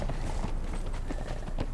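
Horse hooves clip-clop briefly in the video game Conan Exiles, a quick run of soft, moderately near hoof falls with no talking.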